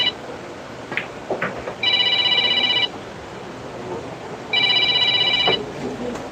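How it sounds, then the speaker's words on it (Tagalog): A cellphone rings with an incoming call during a billiards rematch in Davao City, two electronic ring bursts about a second long each, separated by a pause, over room noise and ball clicks. "Ay tumatawag sa cellphone ni Mark"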